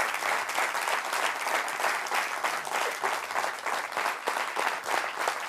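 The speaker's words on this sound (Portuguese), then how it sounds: "uma salva de palmas para ele" Steady, full applause from a comedy show audience, dense clapping sustained throughout without pause.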